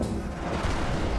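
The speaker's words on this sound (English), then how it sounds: "The pulse beam cannon." A pulse beam cannon fires in the strategy game Age of Wonders Planetfall, a single sustained loud rumbling blast that fills the whole short moment without pause.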